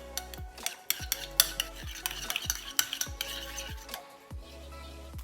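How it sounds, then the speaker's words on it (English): A spoon stirs a mustard sauce mixture made with French's mustard, giving a run of sharp scraping and clinking strokes at an uneven rhythm, close and fairly loud over steady background music. "Mix all that up."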